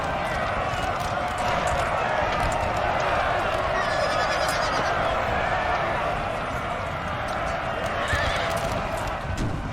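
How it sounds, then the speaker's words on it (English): Cavalry melee from Napoleonic Total War 3, horse guard clashing with cuirassiers: a dense, steady roar of galloping hooves, neighing horses and clashing battle noise, loud and continuous, with a commentator talking over it. "We do have that horse guard now clashing with some of the cuirassiers in the back lines here."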